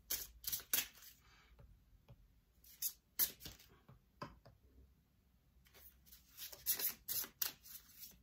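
A deck of oracle cards is shuffled by hand. Crisp riffling and flicking come in short, quiet bursts separated by soft pauses, and the sound is close and faint, with no talking.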